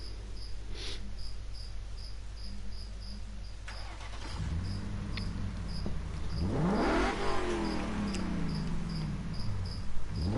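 A race car engine in Gran Turismo Sport on Kyoto Driving Park idles, then revs and accelerates with rising and falling whines, while a steady insect-like chirp pulses throughout.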